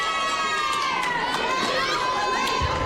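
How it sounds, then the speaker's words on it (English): A crowd at a volleyball match between CWC and WWCC, a loud continuous roar of many voices with shouting, filling the whole stretch. "Western had some crowd up in arms, up in the rafters"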